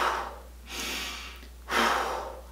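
Forceful breathing is demonstrated for heavy strength training. There are two loud, close breaths, each a sharp rushing exhale with a brief quiet gap between them.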